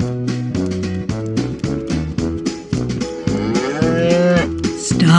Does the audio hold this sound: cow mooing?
yes